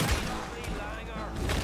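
Gunfire in the Red Dead Redemption 2 video game, a dense, muffled burst of shots packed close together over a short stretch, with a voice talking partly over it.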